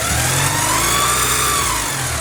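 Porsche 944 engine running steadily after a timing belt and water pump replacement, a continuous close mid-low hum with a slight rise and fall and no talking.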